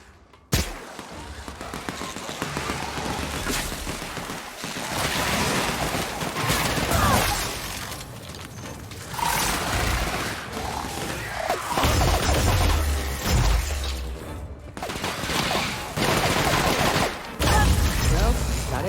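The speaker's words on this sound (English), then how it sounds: "Stop opening fire!" Sustained bursts of gunfire and explosions from combat in The Outer Worlds, a sci-fi role-playing shooter, loud and dense for the whole stretch with rapid volleys, booms and crashes and brief lulls, with voices underneath.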